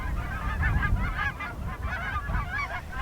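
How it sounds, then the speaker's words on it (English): Geese honk repeatedly in a noisy flock, overlapping calls rising and falling over a low background rumble. "And of course there were geese."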